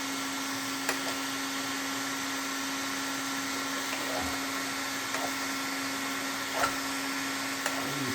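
A heat gun blows with a steady, even whir while warming glue on a Tron arcade control panel outdoors, a constant airy hum with a few faint knocks and scrapes.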